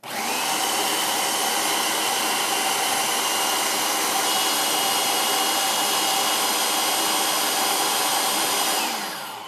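A food processor blends oat cookie batter for chocolate chip cookie bites, with a loud, steady, close motor whir running unbroken for about nine seconds before winding down at the end.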